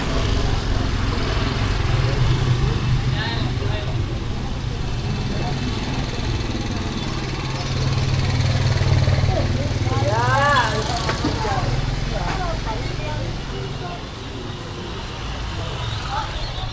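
Street traffic in Jakarta, Indonesia, a steady broadband roar of passing vehicles with a low engine hum throughout, swelling slightly midway, while a person talks nearby over it.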